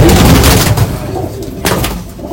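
Pigeons in a loft give low cooing amid loud, close handling noise and bumps, with a voice speaking at moments.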